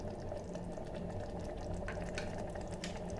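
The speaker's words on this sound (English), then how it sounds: "fry this masala mixture really nice" Masala mixture of turmeric, red chili, cumin and garam masala frying inside an electric kettle, giving a steady, dense sizzle and bubbling with scattered crackling pops throughout, no voices.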